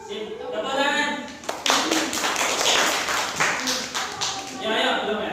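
A classroom of students claps together during a school religion lesson, a dense burst of applause lasting a few seconds while voices carry around it.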